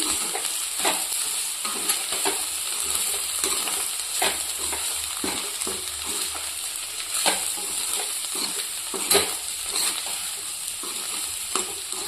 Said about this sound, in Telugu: దీంట్లోనే కొంచెం ధనియాలు కూడా వేస్తున్నాను టేస్ట్ చాలా బాగుంటుందండి ఒక్కసారి కలుపుకుందాం మొత్తం